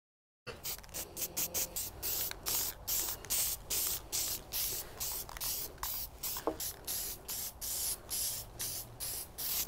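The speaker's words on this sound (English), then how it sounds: "I'm gonna do a test spray real quick" Spray paint can spraying in a rapid series of short hissing bursts, close and steady, with brief gaps between each spray.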